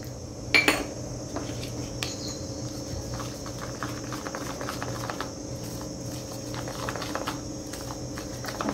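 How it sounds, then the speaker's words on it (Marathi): A spoon stirs coffee powder and milk together in a bowl, with a couple of sharp clinks at the start and then steady, close scraping and tapping against the sides. "हे सगळं टाकून घेते मग मिक्स करते."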